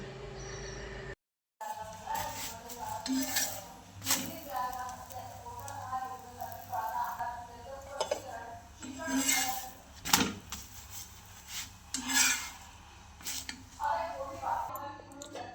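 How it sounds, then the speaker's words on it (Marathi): Kitchen utensils and pans clinking and tapping while chapatis are made, with light metallic knocks and scrapes in an irregular rhythm under a voice talking. "चला आता राहिलेल्या चपात्या करून घेते"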